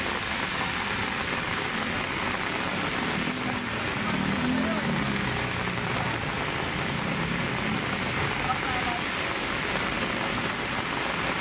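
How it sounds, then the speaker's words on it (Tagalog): Heavy afternoon rain in Manila pours down in a steady, dense hiss on surfaces, loud and unbroken throughout, with a low rumble underneath. "Napakalakas ng ulan ngayong hapon."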